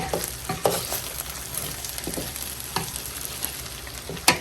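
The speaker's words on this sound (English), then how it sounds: "We're just going to fold this in again, fold over." Beef fried rice with steak folded over in a hot pan, a steady frying sizzle broken by several sharp scraping stirs of the spatula, close and moderately loud, with no voices.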